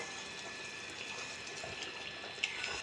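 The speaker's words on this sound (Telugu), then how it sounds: "మనం ఇంట్లో ఇందాక నానబెట్టుకున్న చింతపండు రసం వేసుకుందాం." Soaked tamarind juice poured into a pan of fish curry gives a steady, moderate wash of running liquid with a brief splash near the end, no voices.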